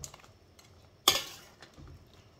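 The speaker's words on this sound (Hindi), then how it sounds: "इनको हल्के हाथों से मिक्स करें" A spoon clinks once against a pan or bowl while fish with coriander and cumin powder is gently mixed, a single sharp, close metallic tap with a short ring, surrounded by faint scraping.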